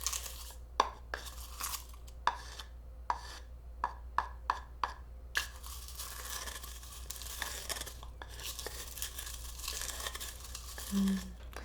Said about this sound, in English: And now we need to mix all of this together.